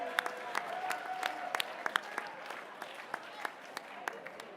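A crowd at a memorial charity auction claps for a pair of people, giving light, scattered, fairly faint applause, while a voice speaks over it near the start.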